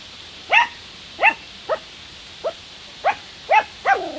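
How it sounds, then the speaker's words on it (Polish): A dog at a carp-fishing spot barks in about seven short, sharp barks at steady intervals, fairly close and loud, with no speech over them. "Jest ze mną e, piesek."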